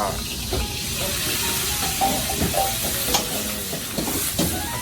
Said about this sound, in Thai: เชฟกำลังจะทำผัดขิง